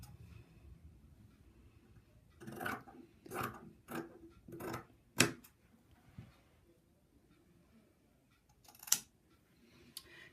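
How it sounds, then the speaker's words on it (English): Scissors snipping through blanket fabric to open an armhole, a quick run of five or six close, crisp cuts followed by a couple of isolated snips, faint and near in a quiet room. "cut the armhole the full length of the slit"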